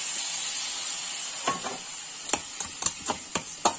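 Crab roe frying in a hot pan over a high flame, giving a steady sizzle with a run of sharp crackles and pops toward the end, close and fairly loud.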